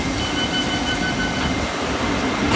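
An S7 Stock underground train rumbles steadily along the Old Dalby test track, a loud continuous roar with faint squealing tones and no talking.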